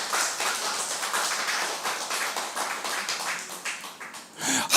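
A church congregation at a Sunday worship service claps together, a dense, steady burst of many hands lasting several seconds, fairly loud and close.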